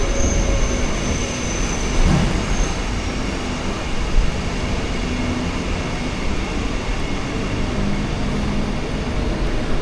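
Early morning MEMU passenger train running from Shoranur to Ernakulam Junction, a steady loud cabin rumble of wheels on track with a constant broadband roar and faint rhythmic rattles, no voices.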